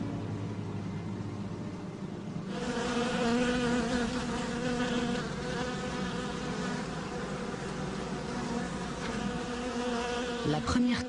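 Dense, continuous buzzing of a honeybee swarm taking over a fruit tree swells in after a quiet start and stays loud and steady throughout.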